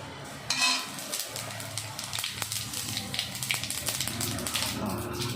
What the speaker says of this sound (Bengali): জিরা ফোড়ন দেওয়া হবে।